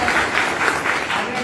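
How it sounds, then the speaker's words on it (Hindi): Brief burst of crowd applause at a BJP political rally in Rajasthan, steady and loud, with voices mixed into the clapping. "जोरदार ताली बजा दो"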